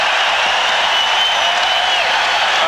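A basketball arena crowd cheers at a televised game, making a loud, continuous, dense roar that holds steady throughout without clear breaks.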